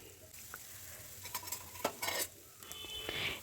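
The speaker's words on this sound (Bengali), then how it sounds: "তার মধ্যে আমি পেঁয়াজ কুচানো দিয়ে দিচ্ছি পেঁয়াজটাকেও ভালোভাবে নাড়াচাড়া করে নেবো" Chopped onion frying in oil in a pan, quietly sizzling while a utensil stirs and scrapes against the metal in a few short, close clinks and swishes.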